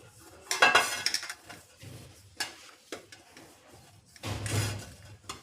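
A spoon stirs ghee into cake batter in a steel bowl, giving irregular metallic scrapes and clinks. There are a few busier bursts of stirring and short pauses between them, close and clear, with no voices.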